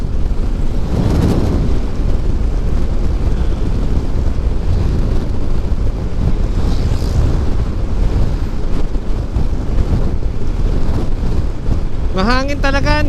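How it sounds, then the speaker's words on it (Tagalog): Steady, loud wind roar buffets the microphone while riding a Yamaha NMAX 155 scooter on an open road, continuous throughout with a brief voice near the end. "Mahangin talaga, no?"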